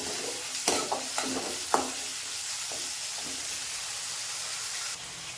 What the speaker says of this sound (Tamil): கொஞ்சம் சீரகம், மிளகு போட்டு அப்படியே வதக்கிடலாம்.